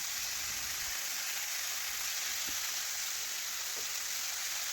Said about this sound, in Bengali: একটু আমি কষে নিচ্ছি মশলার সাথে